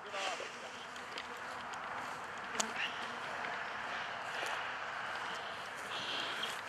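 Honey bees swarm around open hive colonies during beekeeping work, giving a steady, dense buzz that fills the whole clip, with individual bees drifting closer and farther.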